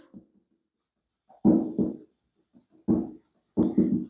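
A pen scratching out an equation during a vector algebra maths lesson, in short bursts of quick strokes separated by brief pauses, close and clear with no talking.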